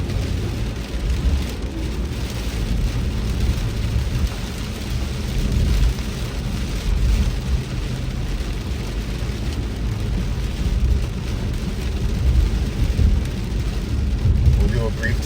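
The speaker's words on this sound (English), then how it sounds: "It is storming out here." A heavy Pineapple Express rainstorm pounds the streets of Skid Row in Los Angeles, a dense, continuous roar of rain and low rumbling throughout, heard from inside a moving vehicle.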